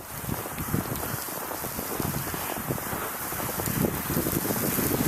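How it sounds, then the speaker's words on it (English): Wind roars and buffets the microphone outdoors during a snow blizzard, a loud, constant rushing noise with gusty low rumbles and no speech. "It's a little bit windy."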